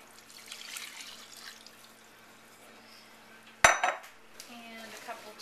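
Hot water is poured into a whole wheat bread dough mixture, a soft steady pour close by, broken by a sharp clatter of dishes midway.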